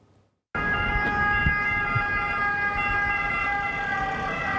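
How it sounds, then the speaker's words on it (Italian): After a brief quiet moment, an ambulance siren bursts in loud and close, wailing continuously with traffic noise underneath. "È appena passata un'ambulanza"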